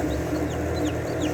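Newly hatching chick in a homemade incubator, with repeated faint high cheeping peeps over a steady hum and clucking poultry in the background.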